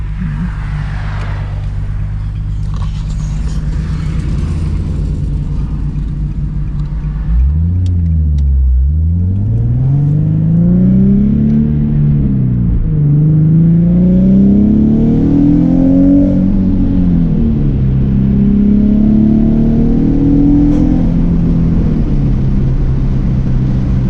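A loud engine idles, then roars as the car launches, pitch climbing and dropping through successive gear shifts as it accelerates hard.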